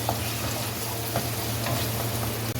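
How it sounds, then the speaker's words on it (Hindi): Garlic-ginger paste fries with onions in a pan for an arvi masala dish, making a dense, steady sizzle with light stirring scrapes throughout and no voices. "लहसुन अदरक पेस्ट को अच्छे तरीके से इसमें भून लें"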